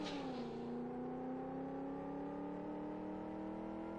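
An open-wheeler race car engine in the Live For Speed racing game holds a steady high whine, its pitch dipping slightly at the start and then settling into a sustained, even drone with no one speaking.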